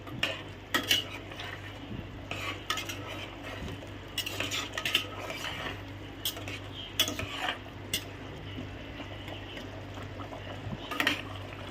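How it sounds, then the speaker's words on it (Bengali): Mutton korma being stirred in a pot for a wedding meal: repeated scraping and clinks of a spoon against the metal, with a steady low simmer underneath, close and alone. "এই দেখুন লাড়াচাড়া করে একটু দেখে দিই।"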